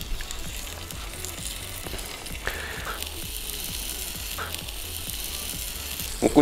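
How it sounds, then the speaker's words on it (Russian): Close, steady sizzling of flour-coated zucchini slices frying in oil on a stovetop, with faint clinks and scrapes of a utensil now and then. "Друзья, ну вот мы перешли к жарке наших кабачков"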